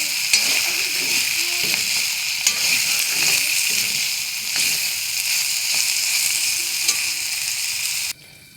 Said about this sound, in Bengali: এইভাবে আমি ভাজা ভাজা করে নেব।